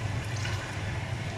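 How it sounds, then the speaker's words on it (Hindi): Water is splashed into nihari masala frying in a pot, a brief, steady rush of pouring liquid and sizzle. "ये अभी हम इसमें थोड़ा सा पानी ऐड करेंगे पहले"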